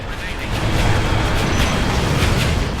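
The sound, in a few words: giant special weapon explosion in the video game Ace Combat Infinity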